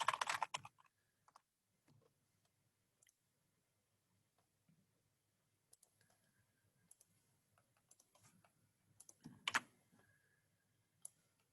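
Keys on a computer keyboard are typed in short scattered bursts, quiet and close, with pauses between clusters and a few louder clicks.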